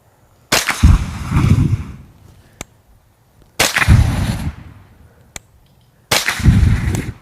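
Three separate rifle shots fired with CCI subsonic ammunition, each a sharp crack followed by a rolling outdoor echo, spaced about three seconds apart, with a faint click between the first two.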